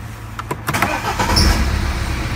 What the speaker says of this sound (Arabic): ولو دورت السيارة